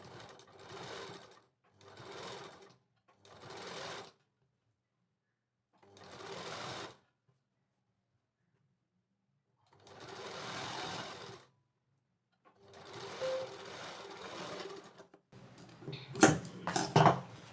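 Sewing machine stitching golden lace onto a sleeve, running in short bursts of a second or so with pauses, then longer runs, ending with clattering handling sounds.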